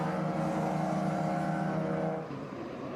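Yellow and black Mazda RX-7 race car at Lime Rock during an SVRA SpeedTour vintage race, engine roaring loud and steady with strong harmonic drone, easing slightly near the end as it passes.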